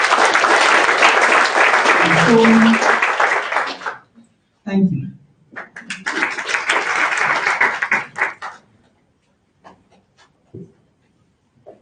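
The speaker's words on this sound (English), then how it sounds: "A big clap for all of them and the results." A breakfast meeting audience gives the internal audit team a sustained round of clapping, fading, then a second round, with a voice speaking briefly amid it and scattered claps trailing off.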